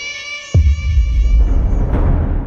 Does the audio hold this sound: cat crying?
yes